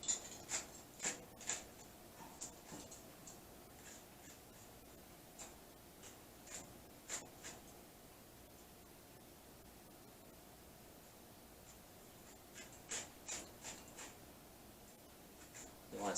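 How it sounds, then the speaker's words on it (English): A spoon scrapes seeds and pith out of a halved bitter melon in quiet scratchy strokes, in clusters of short bursts with pauses between. "use a spoon and get rid of the seed, and especially the white part here, inside here"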